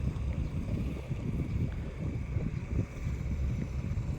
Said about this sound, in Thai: ลอยลำอยู่กลางแม่น้ำปัตตานีนั่นคือ เรือโดยสารครับ ก็จะวิ่งไปเรื่อยๆนะครับ